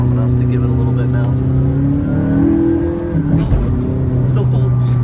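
A purple McLaren supercar's engine, still cold on a snowy day, idles with a loud steady drone and swells in a short rev near the middle before settling back, close and continuous.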